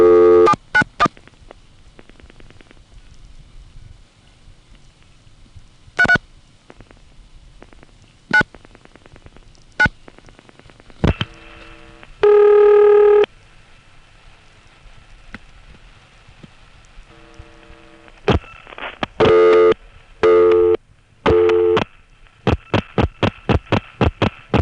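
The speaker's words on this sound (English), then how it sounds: "In this example, you hear power ring right before each audible ring." On a senderized step-by-step (Strowger XY) telephone exchange from 1970s Virginia, a line clicks and sputters, and short bursts of power ring precede each audible ring tone. The pattern repeats several times over a faint, steady line hum.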